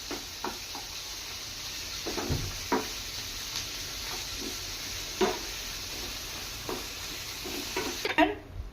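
Broccoli and potato sabji cooking in a pan in a Bengali-style kitchen, a steady soft sizzle under intermittent scraping and clinking of a spatula as the vegetables are stirred, with faint background noise and no clear talk.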